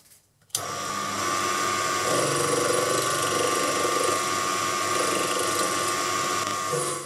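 A metal base part for a machinist's jack is cut on a machine, giving a steady, loud, continuous grinding whir that starts abruptly and holds without voices.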